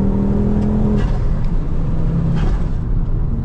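A Ford Focus RS on the road gives a loud, steady engine drone heard from close by, a dense continuous roar with slight shifts in pitch as it pulls along.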